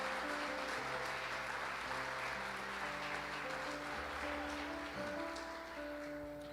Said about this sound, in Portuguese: Se você crê, dá uma salva de palmas para Ele,